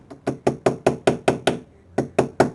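A hammer taps the edges of a Lionel E-unit part to repeen them, about ten sharp metallic knocks in an even, quick rhythm with one short pause partway through, loud and close.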